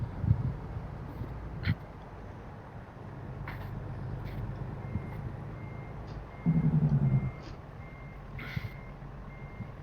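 A truck backs up with a loud low backup beep sounding in a short burst near the end over a steady idling engine rumble, with faint clanks and hisses around it.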